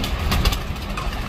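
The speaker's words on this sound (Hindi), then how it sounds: "पखे का थोड़ा शोर है" A steady, broadband whirring hum of an electric fan runs throughout, even and continuous with no pauses.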